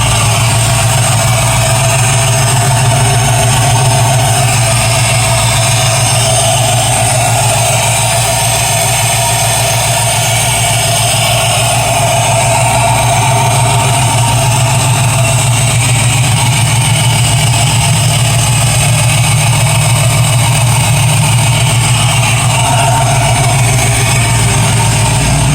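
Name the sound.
1991 Chevrolet S10 engine idling while warming up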